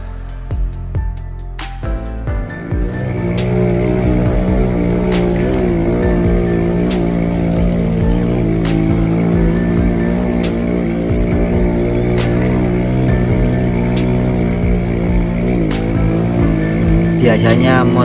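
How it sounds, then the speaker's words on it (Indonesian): Mountain ojek motorcycles at the Gunung Sumbing trailhead grind uphill in low gear, engines droning loud and close without letup while revs rise and fall. Voices speak faintly beneath the engine noise. "motor-motor ojek gunung ini memakai gear depan yang paling kecil supaya enak ditanjakan"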